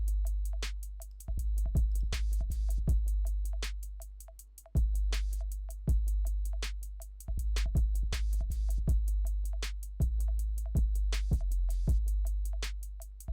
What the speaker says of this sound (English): And then all the drums together sound a bit like